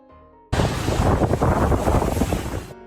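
Massive ocean waves crash against a small boat. A sudden loud roaring wash of water and wind bursts in and churns heavily for about two seconds before cutting away.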